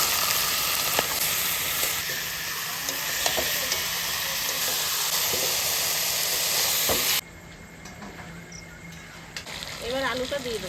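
Chicken pieces drop into oil-glazed fried masala of turmeric and Kashmiri chilli powder, setting off a loud, steady sizzle with stirring scrapes; the frying eases off partway through and voices talk faintly nearby.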